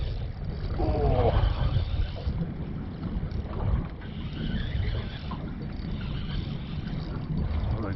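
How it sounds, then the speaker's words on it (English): Wind gusting across open ocean heard from a small fishing boat: steady, rumbling buffeting on the microphone with swelling and easing surges, with muffled speech underneath. "the wind's starting to pick up."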